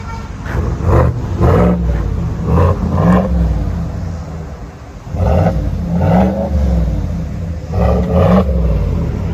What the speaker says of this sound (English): Got that rev limiter on it, so you can't really rev it.